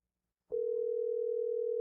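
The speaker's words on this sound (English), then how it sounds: "It's ringing, man." A single steady telephone tone starts abruptly after a short silence and holds without a break, a clean electronic hum on a phone call.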